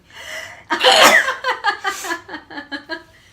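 A loud, sharp sneeze bursts out after a short inhale, followed by a run of breathy giggles and chuckles fading away.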